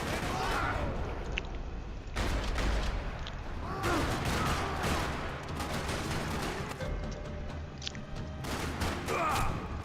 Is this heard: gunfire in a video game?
yes